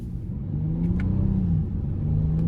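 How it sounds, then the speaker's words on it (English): A 2024 Honda Odyssey Elite minivan with a 10-speed transmission pulling away from a red light, a low engine rumble rising in pitch as it accelerates, heard from inside the cabin with no talking. "I'm gonna give it a little pull coming out of this red light"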